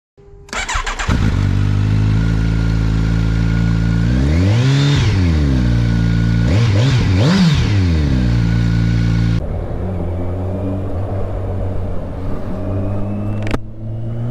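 A Kawasaki Ninja 1000 SX fitted with new Lextech headers and a Black Widow end can starts and idles loudly, blips through two sharp revs, then settles to a lower steady idle.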